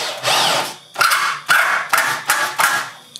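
A power drill whirs in five short bursts, each a rising whine that cuts off sharply, close and loud with brief pauses between.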